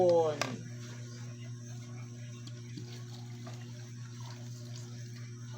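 Water runs steadily from a kitchen tap as it is collected for cooking with coconut milk, a constant even stream with a clatter at the start.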